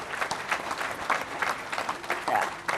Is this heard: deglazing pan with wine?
no